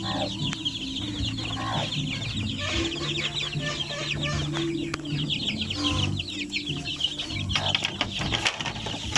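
A mother hen clucks and chatters steadily close by, with a low hum underneath and no talking.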